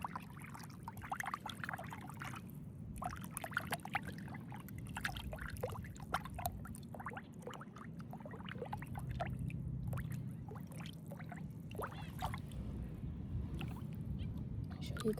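Gentle water at a beach's edge laps and trickles close by, a steady wash of small splashes and dribbles continuing throughout with no speech over it.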